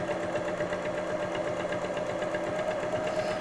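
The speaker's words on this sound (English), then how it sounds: "watch the right hand side of the presser foot, making sure it's going along the edge of the fabric to get a nice straight row of stitching" Sewing machine stitching a straight row along a fabric edge while making an apron, a steady, rapid mechanical whirr with fast even needle clatter, close and continuous throughout.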